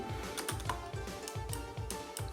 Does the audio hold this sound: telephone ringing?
no